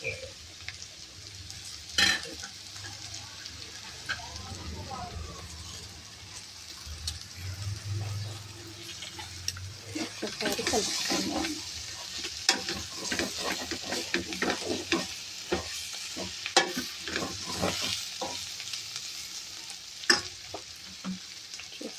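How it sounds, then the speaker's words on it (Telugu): Boneless chicken pieces fry in a hot pan while a spoon scrapes and stirs them, Telangana-style chicken fry. A steady sizzle runs throughout, broken by repeated sharp clinks and scrapes against the pan, all close and without any talk. "చికెన్ ఫ్రై బోన్లెస్ చికెన్తో చేస్తున్నానండి"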